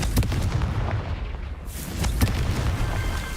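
A Confringo spell blast in the Hogwarts Legacy video game, heard as loud booming bursts with sharp repeated impacts and no talk over them.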